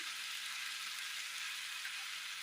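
Tomato sauce poured into a hot pan of frying tapioca Manchurian, giving a steady, close hiss of sizzling that holds level throughout.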